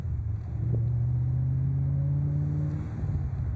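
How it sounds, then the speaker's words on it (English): A 1996 Ford Mustang Cobra Convertible on a test drive, its engine a steady low rumble from inside the cabin that rises slightly in pitch as the car pulls along. "And car just drives beautifully."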